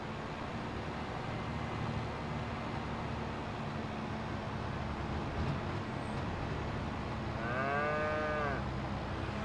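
Cows moo with long, drawn-out calls in a cow barn in Farming Simulator 25, heard over a steady background of machinery and ambient farm noise, with the clearest mooing near the end.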